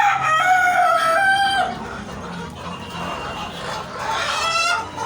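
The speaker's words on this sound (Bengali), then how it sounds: "আমার ছোট্ট একটা মুরগির খামার আছে।" On a small backyard chicken farm, a rooster crows loudly nearby, and a second crow follows near the end, over steady clucking and general coop chatter.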